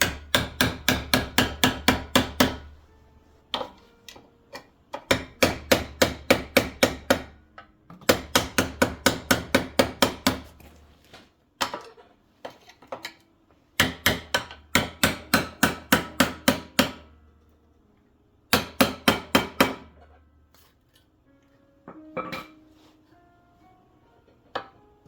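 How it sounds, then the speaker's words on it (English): Bursts of rapid hammer strikes on a flat bar prying the valve cover off a Honda push-mower engine, loud and close, in sharp rhythmic runs of about eight to ten blows separated by pauses and a few scattered single taps. "Using a hammer and flat bar, you can loosen the cover from the engine."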